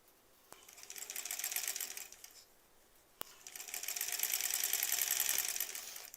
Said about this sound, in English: Now we got a piece that's big enough to finally sew to this piece.